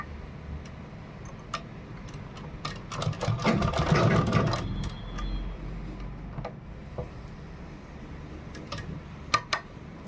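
A sewing machine stitches a blouse panel in one continuous run of rapid mechanical ticking that swells in the middle and fades, with scattered clicks and handling sounds around it and no talking.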